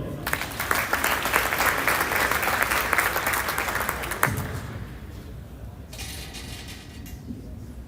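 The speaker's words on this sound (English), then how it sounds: "Let's give them another round of applause." An audience at a high school athlete awards ceremony claps loudly in a dense burst of applause that fades to scattered claps and a quieter room.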